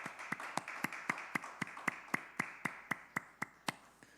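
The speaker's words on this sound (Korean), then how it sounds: "오늘 이 밤에 우리 하나님 앞에 감사와 영광의 박수 올려드립시다." A church congregation at a New Year's Eve worship service claps in praise, crisp, evenly spaced claps about four per second in a steady rhythm.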